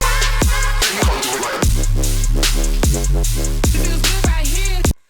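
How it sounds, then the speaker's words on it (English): A bright synth melody built in Serum plays loud and alone, with rhythmic plucked chord stabs over a heavy low bass line, stopping abruptly at the end. "I do the exact same melody, but in this synth that I made in Serum."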